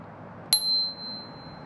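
A bicycle bell gives a single bright ding that rings on for about a second and then fades, close and clear over faint background noise.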